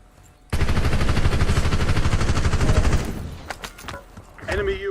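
Rapid automatic gunfire from a video game, a dense burst of shots rattling loudly for a few seconds, then fading into scattered quieter sounds with faint voices under the game audio.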